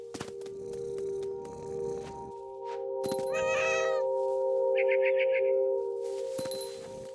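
A cat meows several times in the video game What Remains of Edith Finch, short clear calls over a steady tonal music drone, with a few sharp clicks and a brief chime in between.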